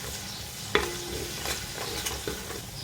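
Garlic paste frying in a pot as the base for yakhni pulao, with a steady hiss, one sharp clink of a utensil near the start and faint stirring scrapes after it.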